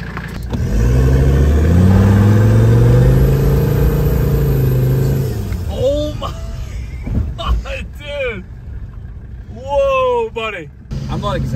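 A diesel truck running methanol in its fuel revs and pulls loudly from inside the cab for several seconds before the engine fades under excited talk that continues to the end.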